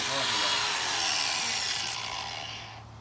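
Angle grinder grinding down a GM distributor bracket for a Toyota mini truck, a loud continuous metallic hiss filling the clip and fading slightly toward the end, with a voice audible beneath it.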